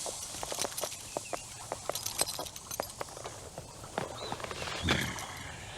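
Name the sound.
horse hooves clip-clopping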